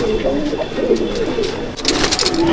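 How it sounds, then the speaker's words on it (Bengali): Kalduma Madrasi pigeons kept in a fancier's loft in Liluah, Howrah, coo in low, rolling, overlapping calls at close range. A person talks in the background, and a burst of brighter rustling comes near the end. "শুধু আপনাদের শখের জন্যই পায়রাগুলো দেখাচ্ছি।"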